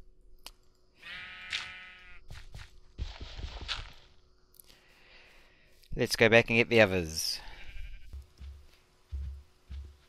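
Sheep bleat in the video game The Colonist: a drawn-out bleat early on and a louder wavering bleat later, among light footstep clip-clops, with a person talking in between.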